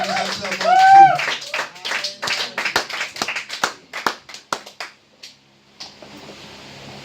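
A church congregation claps in praise, a burst of irregular overlapping handclaps that thins out toward the end, with voices and a sung or called-out phrase mixed in.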